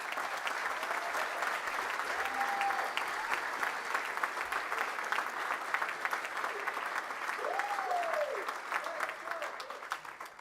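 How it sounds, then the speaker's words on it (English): A large crowd at a university graduation ceremony claps steadily for the full stretch, a dense, even wash of applause at constant loudness, with a few faint whistles rising over it. "could you give Jennifer and the board, some of them are on the front there, a huge round of applause"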